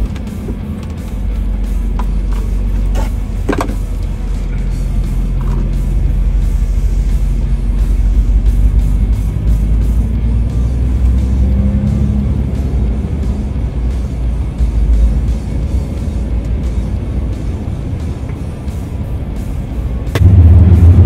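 Ford racing truck lapping at the 24 Hours of Le Mans at about 70–80 km/h, a steady loud engine drone close by throughout, with a sharper burst near the end.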